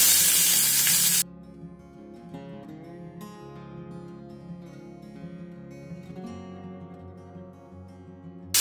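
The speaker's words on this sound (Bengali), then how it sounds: "এবার গোটা গোটা কই মাছ দু পিস আমি ভেজে নেব।" Two whole koi fish fry in hot mustard oil, giving a loud burst of sizzling at the start that drops to a quieter, steady frying crackle with faint kitchen clatter.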